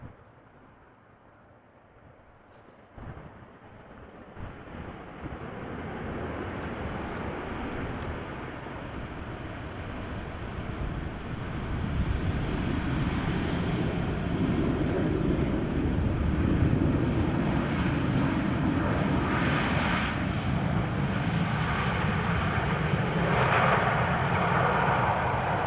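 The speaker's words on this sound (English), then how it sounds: "two Boeing 737-800s up next. This one arriving from Dublin, KLM flight 934" A KLM Boeing 737-800 arriving from Dublin lands at Amsterdam Schiphol in post-storm crosswinds, its broad engine roar swelling from a faint start into a loud, steady rumble mixed with gusty wind noise.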